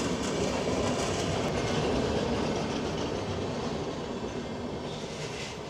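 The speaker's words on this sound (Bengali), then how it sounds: "হাওড়া দেরাদুন উপাসনা এক্সপ্রেস, কুম্ভ এক্সপ্রেস হাওড়া থেকে বেরোচ্ছে" A Kumbh Express train pulling out of Howrah station, with a steady loud rumble of rolling wagons and faint clattering wheels that fades slightly as it moves away.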